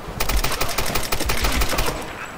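Rapid automatic gunfire from a weapon in Tomb Raider (2013): a dense, loud burst of evenly spaced shots rattling for about two seconds, then stopping abruptly.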